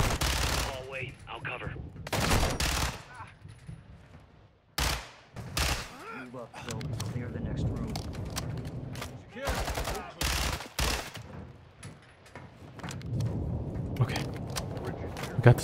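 Call of Duty: Modern Warfare II firefight: loud automatic rifle bursts and single shots crack close by in irregular clusters, with quieter gaps and faint voices in between.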